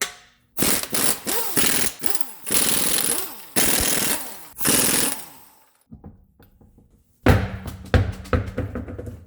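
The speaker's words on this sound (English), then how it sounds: "get yourself a 21 mil with a impact gun or a breaker bar and peel these wheels off" Pneumatic impact gun spinning lug nuts off the wheels of a 2019 Infiniti QX60, loud repeated bursts of rapid hammering, several runs separated by short pauses, close by.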